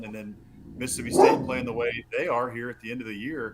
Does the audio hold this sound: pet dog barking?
yes